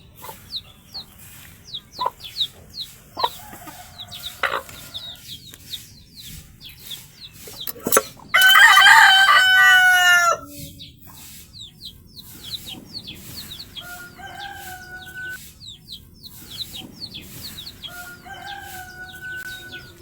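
Several chickens cluck in short, scattered calls, and a rooster lets out one loud crow partway through. The clucking goes on quietly around it, with no talking.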